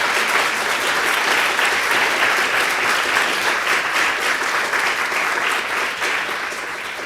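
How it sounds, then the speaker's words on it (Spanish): A church congregation at a live Spanish-language service claps together in a sustained, dense round of applause, many hands filling the room evenly for several seconds before easing slightly at the close. "dele un aplauso al Señor, hermano."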